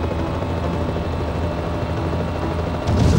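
An armed helicopter in Knight Rider 2 keeps up a steady, loud rotor drone, and a heavier rumbling burst hits at the very end.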